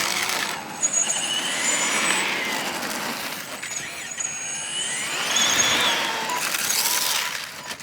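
A 3D-printed RC classic American muscle car on a 3S LiPo battery spins its tires, its electric motor whining in rising and falling whirs close by over a steady rushing noise, with no talking.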